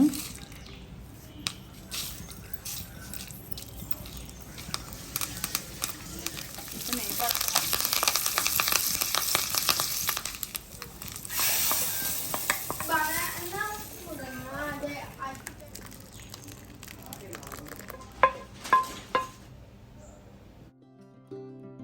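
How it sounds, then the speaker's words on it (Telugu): Ghee tempering (popu) for dal fry sizzles and crackles in a pan, loud bursts of frying rising and falling over about twenty seconds, with children's voices and chatter in the background. "దీంట్లోకి లాస్ట్గా కొంచెం పోపు అనమాట"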